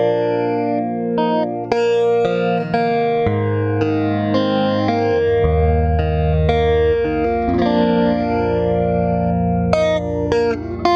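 Electric guitar through a phaser pedal modeled after the MXR Phase 100, with sustained distorted chords and notes swept by a slow, swirling phase effect, loud and unaccompanied by speech.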